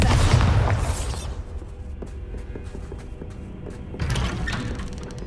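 In the Hogwarts Legacy video game, the Bombarda spell goes off as a heavy booming blast, followed by a rumbling tail with scattered debris clatter and a second surge of noise near the end.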